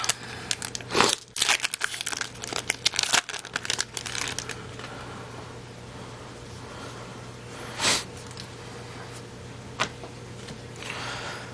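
A Magic: The Gathering Eldritch Moon booster pack is torn open and its foil wrapper crinkled, giving sharp crackling tears in a burst near the start, then quieter rustles and a few isolated crinkles.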